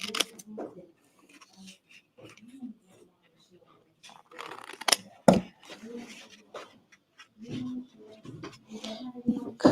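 Scissors snip a corner off paper in a few short, sharp cuts scattered among quiet handling noises, while a person talks nearby in between.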